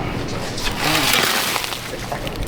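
Rusty liquid is poured out of a car part from an MGB GT under restoration, giving a close, continuous splashing and sloshing trickle that swells in the middle and fades out over a couple of seconds.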